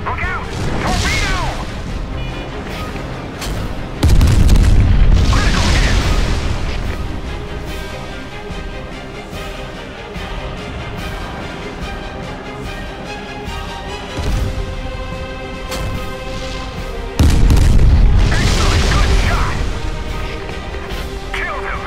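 Heavy booming explosions from torpedo hits in the naval combat video game Steel Ocean, with loud low blasts near 4 and 17 seconds over continuous game music and effects, smaller impacts between, and a voice speaking at times.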